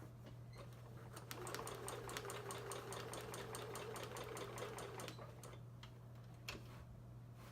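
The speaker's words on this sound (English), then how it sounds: "Threaded the needle and put in the bobbin, and every time I do that I like to just test out and make sure everything is okie dokie." Home sewing machine test run after threading the needle and bobbin, a fairly faint rapid ticking stitch rhythm for several seconds, then a few slower clicks as it stops, with no talking.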